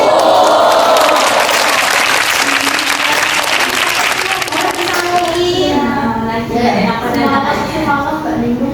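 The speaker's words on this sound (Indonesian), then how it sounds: "Tepuk tangan deh." Schoolchildren clapping their hands in a classroom during a math lesson, a burst of loud mixed clapping that thins out as a teacher's voice and children's chatter take over.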